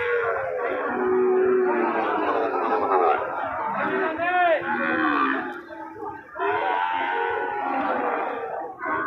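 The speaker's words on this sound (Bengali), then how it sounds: "2টা ষাঁড় বাচ্চা, সুন্দর কোয়ালিটির ষাঁড় বাচ্চা।" Bull calves low and moo at a busy cattle market in Joypurhat, close bellows rising over crowd chatter and nearby talking.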